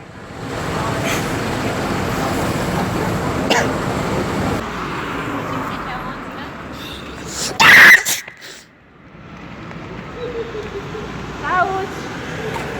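One loud, abrupt sneeze bursts out in a street prank, set against steady road traffic and passing vehicles, with people talking before and after it.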